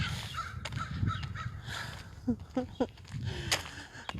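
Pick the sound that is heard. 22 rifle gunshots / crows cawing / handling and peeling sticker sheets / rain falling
crows cawing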